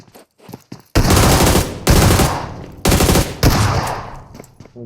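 Loud automatic gunfire rattles in the battle royale game BGMI, four long close bursts of rapid shots separated by short pauses, with faint footsteps at the start.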